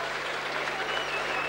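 Steady, dense applause from the crowd at a 1992/93 Castleford versus Widnes rugby league match, a broad even roar of clapping heard from a distance that holds at constant loudness throughout.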